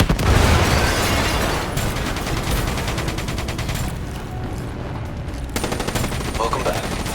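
In the Black Ops III shooter, a mothership's missile launches and heavy gunfire roar in a dense, loud barrage of bursts and booms, with dialogue briefly heard over the battle.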